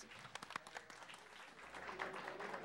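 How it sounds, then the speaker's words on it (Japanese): A crowd at a Street Fighter III: 3rd Strike tournament final claps in a steady burst of applause, moderately distant, with a few louder individual claps standing out near the start. "もう一度盛大な拍手お願いします。"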